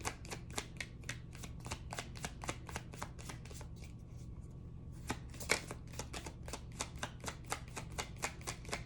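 Oracle cards being shuffled during a card reading, a steady run of crisp riffling snaps repeating evenly, close and fairly quiet, with no talking.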